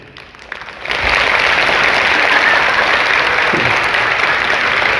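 Applause from a seminar audience bursts in after a second of quiet and continues as steady, loud, even clapping to the end.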